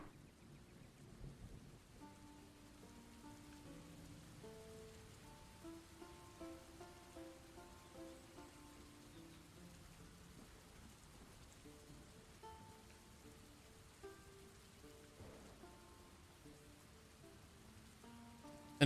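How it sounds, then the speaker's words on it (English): Rain falling with droplets hitting water in a video game environment under development, a faint steady patter with occasional soft rumbles, accompanied by quiet melodic background music. "some good rain effects as well is nice. Especially with like droplets on the water."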